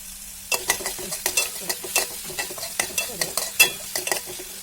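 Tomatoes sauté with ginger, garlic, shallots and chilli in coconut oil for noodle masala, a soft sizzle running under quick, rhythmic stirring scrapes close by.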